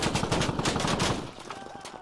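Rapid bursts of video game gunfire crackle loudly at close range for over a second, then break off into quieter game ambience.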